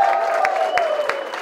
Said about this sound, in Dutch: Geef hem een heel groot applaus